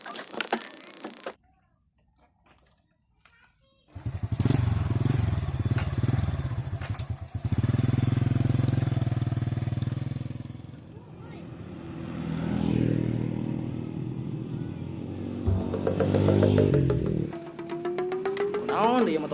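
A motorcycle engine running loud and close, rising and falling in revs across the stretch after an opening lull, with a brief drop before picking up again; voices talk over it in places.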